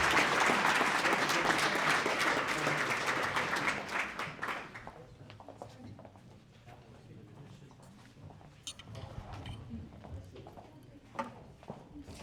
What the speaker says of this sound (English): Let's give it up for the panel.